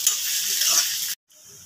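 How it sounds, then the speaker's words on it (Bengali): Onions frying in hot oil give a loud, steady hiss close by that cuts off abruptly, then returns more quietly. "এখানে এবার তেলের মধ্যে দেয়া হলো পেঁয়াজ। পেঁয়াজটা একটু ভাজা ভাজা হোক।"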